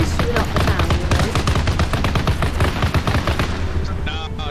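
Dense, rapid gunfire from Arma Reforger rattles almost nonstop for several seconds, loud and close, with automatic bursts overlapping heavy low thumps before easing toward the end.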